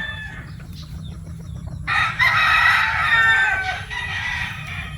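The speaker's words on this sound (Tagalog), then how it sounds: "Yan, daming manok, oh." Chickens cluck steadily close by on a farm, then a rooster crows loudly partway through, with more clucking around it.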